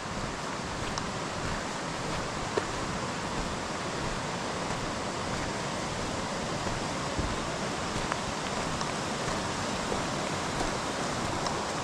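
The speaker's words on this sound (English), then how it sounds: "Got a nice stream for water." Steady broadband rushing of a stream beside a hiking trail near Killington Mountain, Vermont, continuous and fairly close, with no voices.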